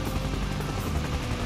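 Steady whirring rotor drone of a siege chopper helicopter in the strategy game Command & Conquer: Yuri's Revenge, loud and continuous with no talk over it.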